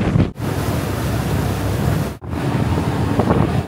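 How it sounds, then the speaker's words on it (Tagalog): Loud, blustery wind buffeting the microphone on an open boat deck near Bergen, Norway, a constant roar with two sudden brief drops in the gusting. "sobrang lakas ng hangin doon"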